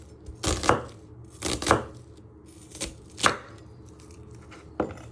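Four sharp knife chops through a peeled onion onto a cutting board, spaced about a second apart with a pause before the last, each a crisp close thud.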